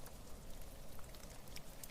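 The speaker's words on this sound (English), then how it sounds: "be able to get the sound of these raindrops on this tundra moss" Raindrops fall on mossy tundra growing over a lava flow in Iceland, a soft, steady patter of close, faint drips with occasional brighter individual taps.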